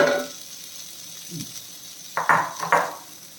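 Shredded chicken hits a hot pan for a chicken fry: a soft sizzle, then a few sharp scraping stirs against the metal late on, close and fairly loud, with no one talking.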